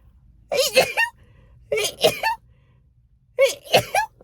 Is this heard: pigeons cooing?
no